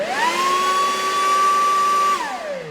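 A Makita XGT cordless leaf blower spins up to a loud, steady high-pitched whine with a strong tonal core, holds it close and alone for about two seconds, then winds down as the motor slows.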